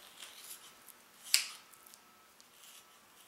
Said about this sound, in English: Just in between, I'm just going to go ahead and cut the ribs.